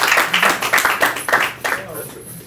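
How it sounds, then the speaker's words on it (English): A small seminar audience gives brief applause for two volunteers, a short run of close, rhythmic claps that tapers off quickly. "we got an applause for my 2 volunteers"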